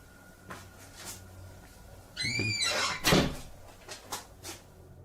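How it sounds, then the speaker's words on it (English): An indoor kitchen door squeaks as it swings, with a rising creak followed by a firm thud as it shuts, then a couple of softer knocks. The sounds are close, with no talking. "the demon shuts the door behind him"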